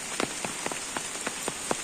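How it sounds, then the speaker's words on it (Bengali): Rain falls steadily on a surface, a continuous hiss with distinct drops tapping at a regular pace. "বৃষ্টি যেভাবে হইতেছে"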